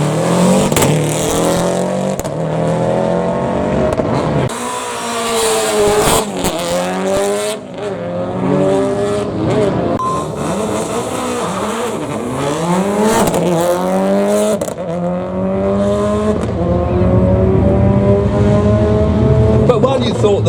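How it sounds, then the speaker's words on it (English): A rally car or supercar accelerates hard through its gears with a flat shift, engine note climbing in repeated rising sweeps without lifting, loud and close while someone talks over it. "A flat shift there. He doesn't lift off the throttle at all."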